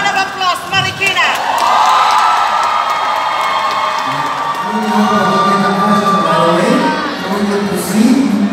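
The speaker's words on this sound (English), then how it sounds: "A round of applause, Marikina!" An audience at a Queen of the Philippines pageant Q&A claps and cheers loudly for a contestant from Marikina. Whoops and shouts rise above the applause, and a voice calls out over the crowd.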